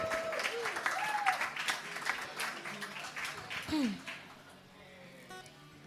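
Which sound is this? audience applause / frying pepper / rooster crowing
audience applause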